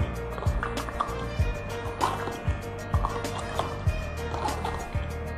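Kangen water with added drops is stirred in a glass, giving repeated rhythmic clinks and liquid swirls about twice a second, close and fairly loud over a steady background hum.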